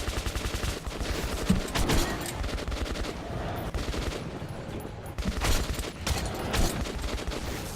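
Sustained, dense gunfire from the video game Metro 2033 Redux rattles on without pause, loud and continuous throughout.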